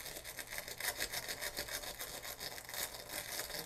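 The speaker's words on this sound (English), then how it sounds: "I'm just going to go ahead and scrub this." Faint, rapid back-and-forth scrubbing on the mechanism of a Magnavox ZV450MW8 DVD/VCR, a steady rhythmic rasping of short strokes with no voices.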